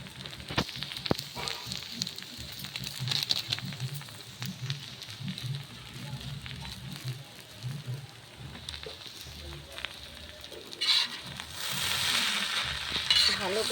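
Chicken chow mein being stirred and mixed with meat masala in a pan at a street food stall, a steady sizzle with scraping and stirring strokes throughout, growing louder toward the end.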